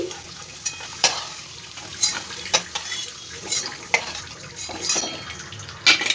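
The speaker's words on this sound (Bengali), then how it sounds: "এবার এই তেলের মধ্যেই ভেন্ডিটাকে আমি একটু ভেজে নেবো" Vegetables fry in hot oil in a pan for a vegetarian mixed-vegetable dish, with a continuous close sizzle punctuated by repeated clinks and scrapes of a utensil.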